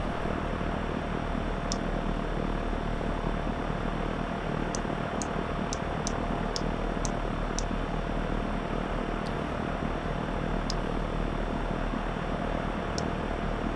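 A propeller-driven aircraft on its takeoff run in the X-Plane flight simulator gives a steady, loud, broadband engine and propeller roar throughout, with faint high clicks from cockpit controls now and then.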